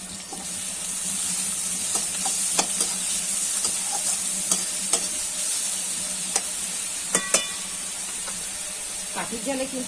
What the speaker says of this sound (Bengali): পেঁয়াজ রসুন বাটা দিয়ে দেবো।